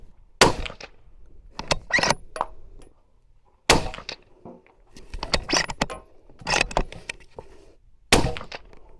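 Suppressed shots from a Howa Superlite hunting rifle fired at targets 100 yards away, four sharp cracks spaced a few seconds apart, each followed by brief clatter and handling noise, close and moderately loud.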